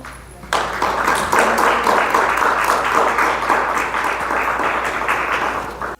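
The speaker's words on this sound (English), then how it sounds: "So please give him a round of applause." A room full of people breaks into sustained applause, dense and steady for several seconds before cutting off.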